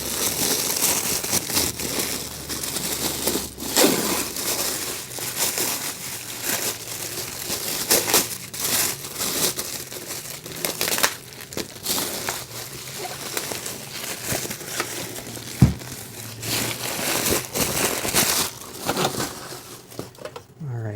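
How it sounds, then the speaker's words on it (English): Thin plastic and tissue-paper wrapping crinkles and rustles while a Boba Fett Re-Armored helmet from The Black Series is unboxed, steady close handling noise with sharper crackles and a thump throughout. "So it's wrapped in plastic, as well as this"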